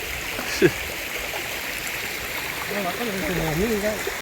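A natural mountain stream rushes steadily, a continuous close hiss of flowing water with a brief splash early on, while someone talks briefly over it.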